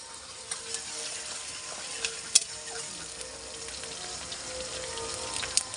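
Chopped onion, whole garam masala and bay leaf fry in a kadai with a low, steady sizzle and a few faint clinks and taps.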